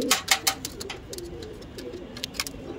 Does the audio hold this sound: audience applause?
no